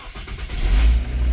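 A Ford Focus automatic, after a no-start fault, cranks and catches, its engine swelling into a loud, close rumble that settles into a steady run.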